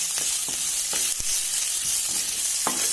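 Onions, garlic and green chilies sauté in a pan for a garlic bhindi do pyaza, with a constant bright sizzle broken by periodic spatula scrapes and stirs.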